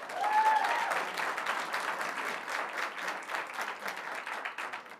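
Audience applause fills a senate hearing room, a dense steady wash of many hands clapping that holds for several seconds and slowly thins toward the end.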